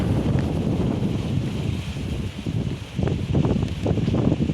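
Strong wind buffets the microphone on a floating bridge at the river mouth in Rayong, Thailand, a loud, gusty rumble that swells and drops unevenly throughout, with no one speaking.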